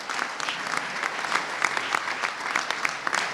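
An audience applauds FC Schëffleng 95 at a ceremony honouring the club's promotion to the BGL Ligue, steady dense hand clapping with crisp individual claps, fairly close and lively throughout.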